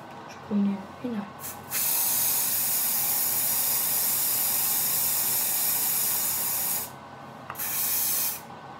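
A steady, close hiss of liquid being sprayed into a container while making a pretend poison runs unbroken for about five seconds, preceded by a brief voice and a short pause before a second spray burst.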